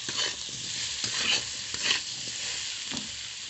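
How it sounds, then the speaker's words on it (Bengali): Spinach frying in a pan with turmeric and salt sizzles under repeated stirring, with bursts of scraping and rustling over a gentle hiss, close and moderately loud, without talk. "ভালো করে ভেজে নেব।"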